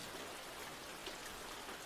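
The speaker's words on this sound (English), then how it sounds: "And of course, it was raining." Steady rain falls on a city street at night, a dense, even hiss with no pauses, soft and continuous, heard alone.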